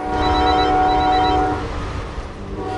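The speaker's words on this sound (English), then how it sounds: "there on the homebound train, now well underway" Homebound passenger train well underway on the long ride to Southern California, a loud, steady rumble carrying a sustained horn-like hum that eases off partway through.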